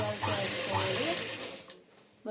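Sewing machine restitching clothes in a home tailoring setting, a steady close whirring run that stops briefly near the end before starting up again, with faint background noise.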